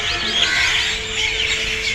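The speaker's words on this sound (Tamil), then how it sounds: "கிளியோட சத்தம், குயிலோட சத்தம் உங்களுக்கு கேட்குதா?" Parrots and Asian koels call from trees in a continuous, bright chorus of chirps and warbles, steady and moderately loud against a low background hum with no voices.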